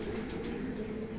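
Pigeons cooing in a loft while being stamped at a pigeon racing festival in Gujrat, a soft continuous murmur of low coos blended with background noise, faint and brief.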